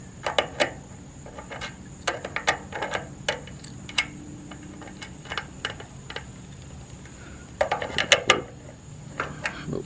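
Crescent wrench working a nut on trailer wiring during a trailer rebuild, heard as close, irregular metallic clicks and ratcheting taps in scattered bursts over a quiet background, with no talking.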